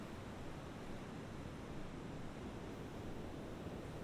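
Ocean waves at a beach, a steady, even wash of surf noise heard quietly at a distance, continuous without distinct breakers and with no voices.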